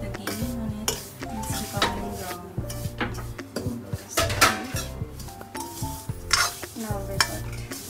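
Halwa cooks in ghee in a pan as a utensil stirs and scrapes, producing repeated clinks and scrapes over a soft sizzle, close up with no talk.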